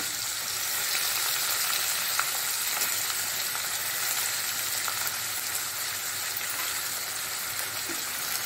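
Green chillies and finely chopped onions sizzle and fry steadily in a hot pan for a Mangalorean rajma and jackfruit seed curry, a continuous dense crackle with occasional faint stirring scrapes and no talking.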